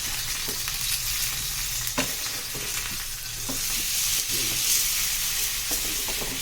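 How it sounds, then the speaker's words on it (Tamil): Chicken pieces sizzle steadily in a hot pan while a utensil scrapes and turns them with a few sharp clacks, no voices over the frying. "நம்ம இப்போ சிக்கனை திருப்பி போட்டுக்கலாம்."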